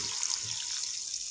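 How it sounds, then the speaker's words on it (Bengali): Water poured into a cooking pot for a Bengali sour mango dish with okra, prawns and potatoes, a steady soft splashing stream running without a break, alone and fairly faint. "আমি এবারে এতে জল দিয়ে দিলাম।"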